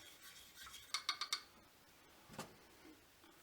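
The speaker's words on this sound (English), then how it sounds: "Give the stain a stir." Wood stain stirred in a can for a rustic farmhouse display platform: four quick faint metallic clinks in a row, then a single soft scrape, low in level with no talking.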